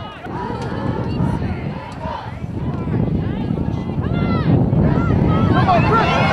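Wind buffets the microphone at an outdoor high school boys' soccer playoff game, a steady broadband rumble running throughout while people talk and call out nearby.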